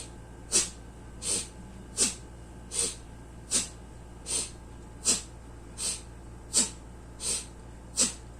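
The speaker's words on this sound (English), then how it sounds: "inhale and you sneeze" Eleven sharp, forceful nasal exhales of yogic Kapalabhati-style breathing, evenly spaced about every three-quarters of a second, each a short sneeze-like puff over a low steady hum.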